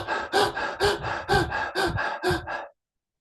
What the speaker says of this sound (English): breathing through your mouth like this activates and awakens